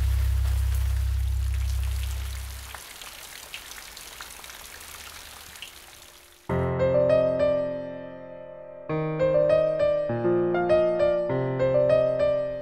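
Steady rainfall on the Bhadra river patters and hisses for several seconds, then fades out as gentle music with bell-like notes takes over.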